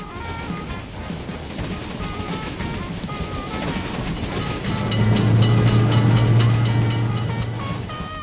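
Video game train passing a road crossing, continuous rolling clatter swelling louder in the second half with a deep sustained rumble, a brief bright ding near the start.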